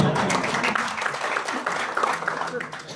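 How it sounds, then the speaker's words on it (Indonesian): An audience applauding at a product knowledge seminar, a steady wash of many hands clapping that fills the whole stretch at moderate level, with a voice talking over it. "Tepuk tangan dong"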